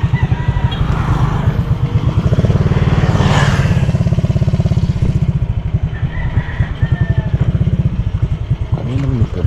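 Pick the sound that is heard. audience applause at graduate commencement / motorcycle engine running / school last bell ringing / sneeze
motorcycle engine running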